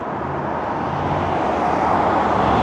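Busy traffic rolls along Lakeshore Drive in North Bay, a close, loud, continuous roadway rush of passing vehicles with no break and no talk.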